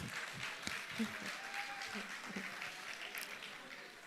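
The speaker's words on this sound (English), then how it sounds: "A round of applause for yourselves." A crowd at a graduation ceremony applauding with steady, even clapping, and faint voices mixed in underneath.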